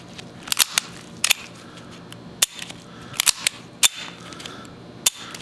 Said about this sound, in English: Pull the trigger a few times.